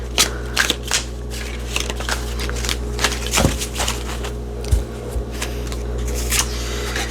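Brand-new tarot cards shuffled in the hands, a steady run of quick riffling snaps and papery flicks with a few sharper clacks, close and alone over a low steady hum.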